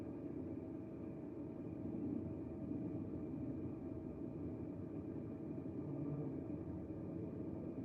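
A truck engine rumbles steadily at low pitch, moderately distant and unchanging, with no clear start or sharp rev.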